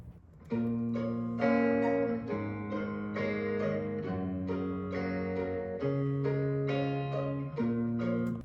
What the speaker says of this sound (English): So for now, it's gonna sound like this with the violas.